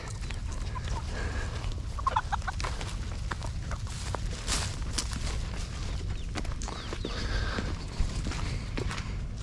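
Chickens and turkeys clucking and gobbling in a busy flock, with scattered footsteps and rustling over a steady outdoor background.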